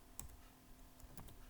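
Computer keyboard keys tapped in two short bursts of clicks at moderate volume, with quiet gaps between presses and no talking.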